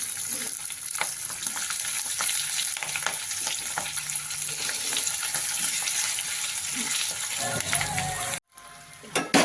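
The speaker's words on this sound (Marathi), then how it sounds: "याच्यामध्ये टाकू मिरच्या हे अशा शिमला सगळ्या आपण परतायला आणि मंद गॅसवरच आपण शिमला परतून घेऊ" Sliced long capsicum with green chillies sautéing in a pan over a low flame, a steady close sizzle with occasional stirring scrapes that cuts off briefly near the end.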